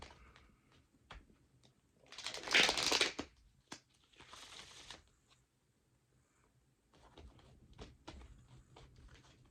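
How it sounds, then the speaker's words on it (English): Tarot deck being shuffled by hand during a card reading, a few quick papery riffles and slides with one louder burst, close and fairly quiet, separated by soft handling noises and short pauses. "I'm just shuffling"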